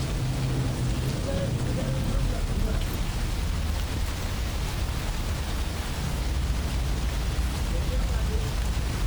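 Light rain falls steadily over a town and villages around Jafrabad in Amreli, Gujarat, making a continuous even hiss, with faint speech beneath it early on.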